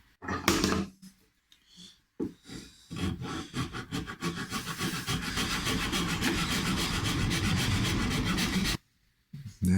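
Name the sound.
chemically polished flat file filing a binding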